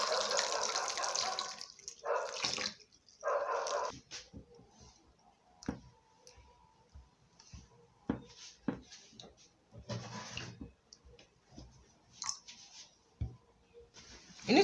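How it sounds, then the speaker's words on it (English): Water pours and splashes in bursts with clicks and handling noises between, close and fairly quiet, like rinsing a lemon in a bowl. "I'm going to pour in water and wash it."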